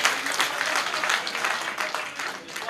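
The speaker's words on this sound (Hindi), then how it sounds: "ताली जोरदार बनती है इस पे।" Applause from a comedy show audience swells briefly after a punchline, a dense patter of many hands clapping that rises and fades slightly over a few seconds, fairly loud and close.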